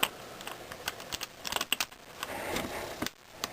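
A Safariland Comp-3 speed loader gives a few small, close plastic-and-metal clicks as rounds lock into it, with light handling rattles around them and no talking.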